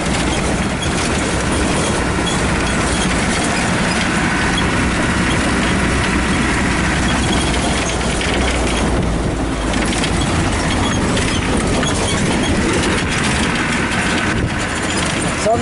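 Diesel engine running steadily with a loud, continuous broadband rumble and clatter, heard from close by without any talk.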